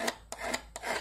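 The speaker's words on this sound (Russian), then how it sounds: "Для этого вот алмазные надфили самый раз." A diamond needle file rasps back and forth over a metal knife handle fitting in short, quiet strokes, about four or five per second, close up and with no talking.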